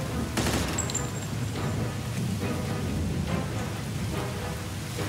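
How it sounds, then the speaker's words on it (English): Gunfire in a gunfight in the video game Mafia II, dense rapid bursts of shots and impacts crackling over a loud, continuous rumbling battle din. "Intense gunfights."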